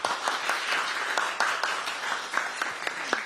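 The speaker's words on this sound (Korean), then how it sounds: "우리 여러분 수상하신 거는 오늘이라도 박수 한번 많이 쳐주시면 좋을 것 같아요" Audience applause at a press meeting for culture and arts award winners, steady dense clapping at moderate, somewhat distant level with sharper individual claps popping through, no talk.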